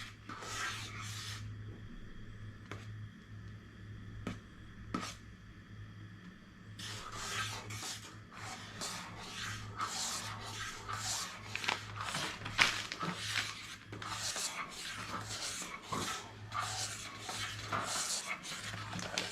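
A metal camping spoon scrapes and stirs through a rehydrating Readywise food storage meal in a pot, with repeated rhythmic rasping strokes, close and steady, speeding up into quicker scraping in the second half.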